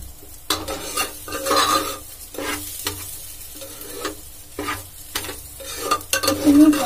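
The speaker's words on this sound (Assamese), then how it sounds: "এইখিনি ভজা হৈ গ'ল, 2 মিনিটমান ভাজিলোঁ" Spices for jeera rice fry in a pan, sizzling steadily while a utensil stirs and scrapes against the metal in repeated, irregular strokes, close and fairly loud.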